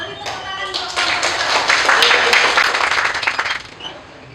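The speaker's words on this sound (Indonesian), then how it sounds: "Beri tepuk tangan untuk kelompok" Applause in a madrasah aliyah classroom for a student presentation group, a short burst of claps that swells for about three seconds and then fades, with speech heard around it.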